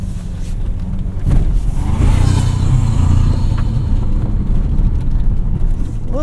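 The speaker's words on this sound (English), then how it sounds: "A little bit of throttle delay with this iForce Max powertrain." Toyota Tacoma Trailhunter with the iForce Max hybrid powertrain accelerating off road, a loud, close interior engine drone that builds and holds steady over rumbling tire and cabin noise, with a few brief voice sounds.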